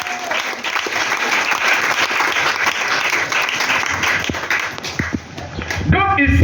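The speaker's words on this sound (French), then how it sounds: "Acclamons très fort le Seigneur." Church congregation claps loudly and steadily in praise, a dense continuous round of applause with some shouting voices mixed in, rising again at the close.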